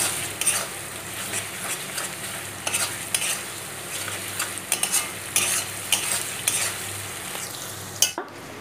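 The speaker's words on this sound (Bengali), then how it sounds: "বাকি আদার পেস্টটাও ওর মধ্যে দিয়ে দিতে হবে, অনবরত নেড়ে চেড়ে যেতে হবে" A spoon stirs mutton curry with ginger paste in a pot, scraping steadily in a repeating rhythm over a constant frying sizzle, close and moderately loud with no talking.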